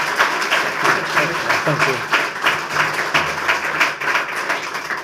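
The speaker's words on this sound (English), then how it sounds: "can we please a round of applause for Themi?" An audience at a book launch seminar on genocide recognition applauds the author Themi, with a sustained wash of clapping at fairly close range and a voice speaking briefly over it.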